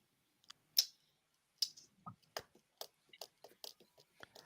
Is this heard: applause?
no